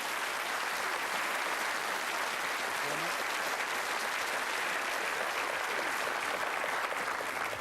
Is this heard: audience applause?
yes